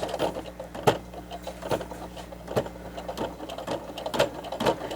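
A sewing machine runs a straight stitch with back stitching on a fabric face mask with a pocket and nose piece, a steady close whirring hum broken by sharp periodic thumps as the needle cycles.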